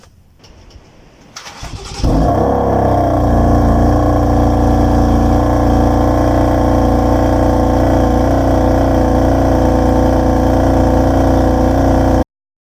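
A BMW M4 F82 coupe engine cranks and fires up after a brief starter whir, then settles into a loud, steady, rumbling idle that holds for about ten seconds before cutting off abruptly.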